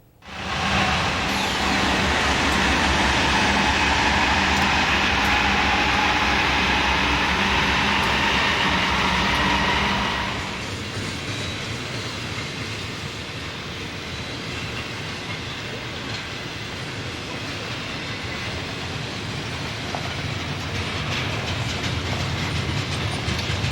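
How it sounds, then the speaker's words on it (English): An eastbound Norfolk Southern double-stack freight train rolls loudly past Altoona station, a steady broad rumble with wheel clatter for about ten seconds, then easing to a lower, quieter rolling drone as the cars continue by. "we see an eastbound double-stack train passing."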